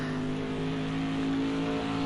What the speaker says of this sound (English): She was using up all those revs that she can.